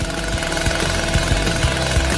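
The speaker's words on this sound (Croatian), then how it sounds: "Opa, motorna testera." A loud motorized saw roars continuously, with a rhythmic low chugging pulse under the engine noise.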